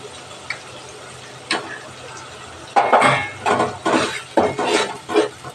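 Ground cumin, coriander and Kashmiri red chili that were soaked beforehand are stirred with chicken and jackfruit in a pan. A spatula scrapes in a series of loud, rhythmic strokes that quicken after a few quieter taps.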